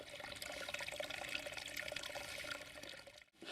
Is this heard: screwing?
no